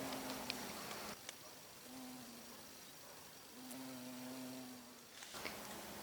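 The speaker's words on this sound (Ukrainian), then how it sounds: "Це дуже велика комаха і дуже часто її називають джмелем." A large insect drones in a low, wavering buzz that fades in and out, faint against a steady outdoor hiss.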